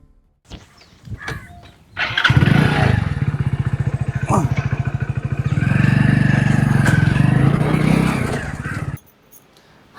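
A motorcycle in a rural village has a brief clatter before its engine catches, then runs loud and close with a steady, rapid thrum for several seconds before cutting off abruptly.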